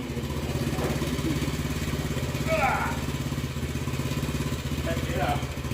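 A 1979 Honda CT90 motorcycle with a Chinese carburetor idles steadily after a carburetor tune-up, a close, continuous low engine putter running throughout, with brief voices over it.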